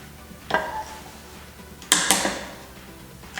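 A plastic tile leveling clip is cinched tight over large-format tile, giving two short bursts of close ratcheting, creaky plastic clicks with a pause between them.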